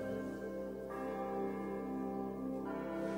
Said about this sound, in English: Can you hear the wedding bells again?